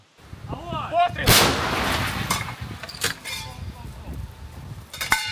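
A single loud L119 howitzer round fires nearby with a sharp blast that rolls into a long echoing rumble, followed by a few fainter knocks and clanks. A voice is heard briefly just before the shot.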